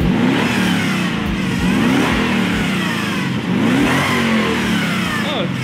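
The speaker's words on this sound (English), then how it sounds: "our LS400 happens to have a supercharger." A loud Lexus LS400 engine with a supercharger revs repeatedly, rising and falling in pitch with a whining supercharger tone layered over the deep roar, close and continuous.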